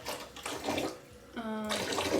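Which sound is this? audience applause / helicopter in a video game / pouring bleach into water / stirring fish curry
pouring bleach into water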